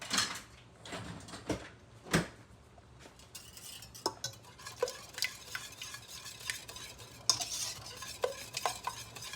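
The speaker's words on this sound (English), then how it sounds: "I'm going to use my whisk." A whisk stirs mac and cheese sauce in a pot over a low stove, clinking and scraping against the metal in quick, uneven strokes at close range over a soft background hiss.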